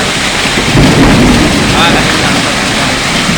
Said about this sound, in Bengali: এবং কি বর্জপাতও হচ্ছে তার সাথে সাথে